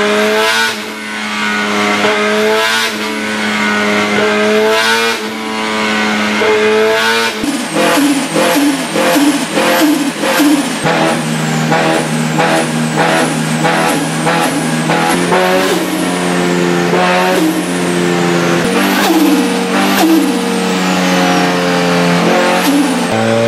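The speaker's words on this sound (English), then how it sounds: "See if we can run it on the dyno and hopefully not break up anymore." A car engine runs on a dyno, roaring loud and close with repeated revs that rise and drop in pitch, the tone climbing and falling over and over.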